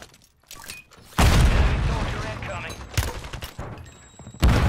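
A stun grenade goes off in Call of Duty with a sudden loud blast and a rough, lingering roar, followed by further sharp bangs, while players talk over the action.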